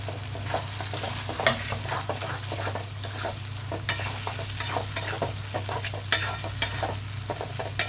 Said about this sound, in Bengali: সমস্ত কিছু দিয়ে মশলাটা ভালো করে কষিয়ে নিচ্ছি